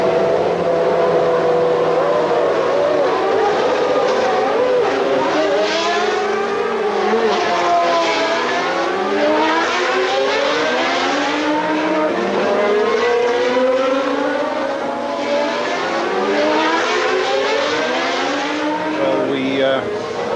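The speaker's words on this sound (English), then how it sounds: "As all the other cars move off on the warm-up lap, Michael's car coughs briefly into life and" Formula One race cars pulling away on the warm-up lap at a grand prix grid, several high-pitched engines rising and sweeping in pitch, overlapping one another at close to medium range, with voices underneath.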